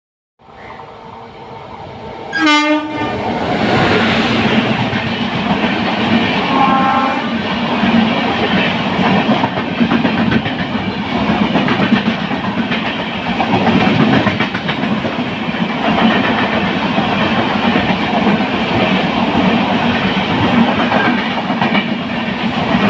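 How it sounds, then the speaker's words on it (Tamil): A train roars past nearby through Mullurkara Railway Station with continuous rumbling and clattering wheels, a brief horn blast near the start, loud and sustained throughout. "கொஞ்ச நேரத்தில் நிறைய ட்ரெயின்ஸ் வரப்போகுது"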